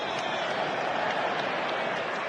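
Crowd at a rugby stadium during an England versus South Africa match cheering and applauding, a dense, steady roar of clapping and voices throughout.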